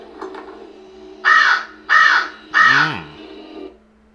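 A crow caws three times in evenly spaced, harsh calls, the last one dropping into a lower, throaty tone, heard fairly close against a quiet background.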